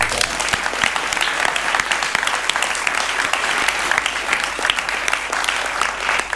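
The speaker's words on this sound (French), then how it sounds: "on peut l'applaudir quand même" An audience claps loudly and steadily in a close, crowded room, an unbroken wash of applause with faint voices mixed in.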